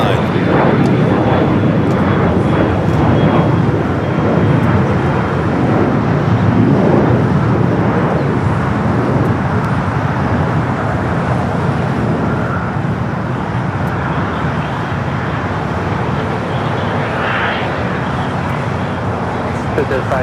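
An airliner at LAX taxis toward runway 25 Right for takeoff, a broad, steady jet-engine roar that continues without letup, with talk and radio chatter audible over it.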